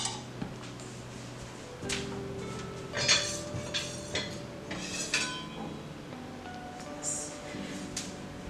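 Cutlery and dishes clink and rattle in a home kitchen as someone rummages for a sharper knife. Scattered light knocks and metallic chinks come at close range with no talking.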